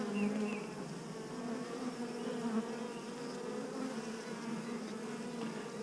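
Honeybees buzz around a hive box in a steady, faint drone with no pauses, accompanied by no speech.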